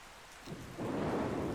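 Rain and a thunderstorm in a survival video game form a steady, close wash of falling rain. It swells into a broad rumbling roar halfway through and is heard alone with no voices.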